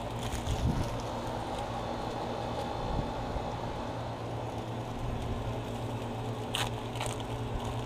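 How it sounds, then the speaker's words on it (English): Steady outdoor wind buffets an open-air spot by a backyard grill, a continuous broadband rush with a couple of brief gusty thumps, no talking. "It's so windy out here,"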